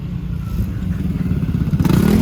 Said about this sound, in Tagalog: May Jot, ba't ang dami mong motor?